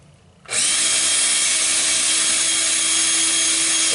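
A power drill spins a pinewood derby car axle against wet sandpaper, a steady high whine that starts abruptly after a brief quiet moment and holds loud and constant with no talking.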